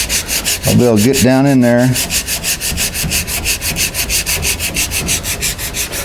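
Hand block sanding on an MGA car body panel makes a steady, rhythmic rasp of close abrasive strokes. Someone speaks briefly over it early on, then the scraping carries on alone.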